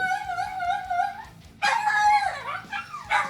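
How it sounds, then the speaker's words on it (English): Several dogs give long, wavering howls, then break into a burst of yips, whimpers and barks. They sound close and fairly loud, with no talk over them. "These dogs of mine"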